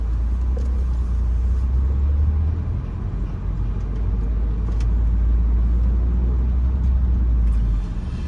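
A car rolls steadily along a residential street in the Pinecrest neighborhood of Charlotte, North Carolina, its engine and tire rumble low and constant with no voices.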